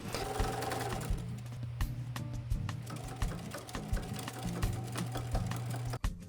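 A sewing machine stitching front and back panels of canvas pants, with a close, steady mechanical whir and rapid ticking needle strokes running in continuous bursts with brief pauses.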